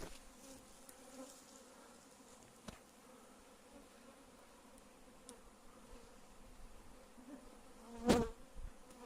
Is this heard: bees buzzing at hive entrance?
yes